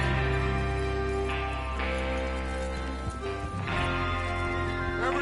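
Horses' hooves clip-clop steadily in the Red Dead video game, a continuous loud trotting rhythm under sustained tonal sound.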